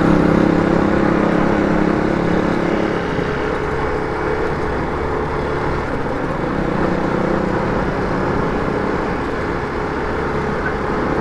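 A motorcycle engine drones steadily while riding, loud and close, with a rough rumbling underneath from a clunking wheel with aftermarket mag wheels.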